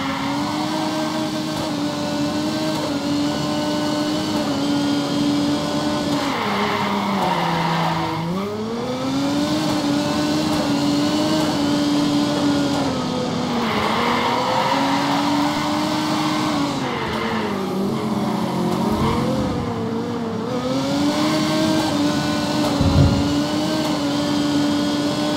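A car engine revs and shifts through its gears in a driving video game, with tires squealing in repeated long skids through corners. The engine is loud and steady for the whole stretch.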